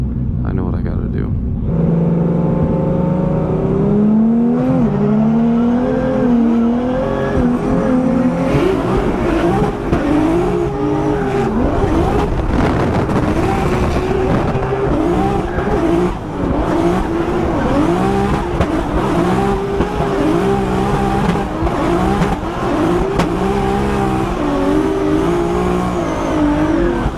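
A Formula Drift car at Englishtown drifts hard, the engine revving and bouncing off the limiter while the tires squeal continuously. The noise is loud and close for nearly half a minute, and voices talk over it.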